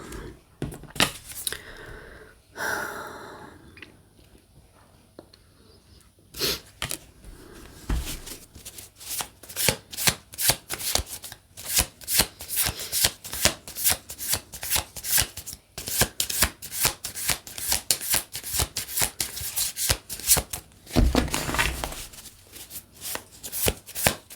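Brand-new, slippery tarot card decks are shuffled close up in a quiet room, with rapid riffling bursts and soft slides repeating steadily and brief pauses between shuffles.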